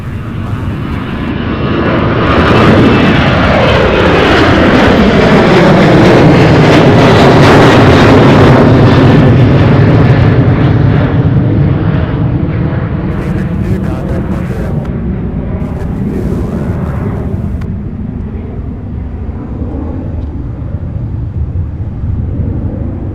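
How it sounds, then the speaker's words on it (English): A heavy MD-11 cargo freighter on landing approach at an airport, its jet engine roar swelling loud and close as it passes, then slowly fading away with a lingering rumble and wind buffeting. "Our next MD-11 coming in for a landing here."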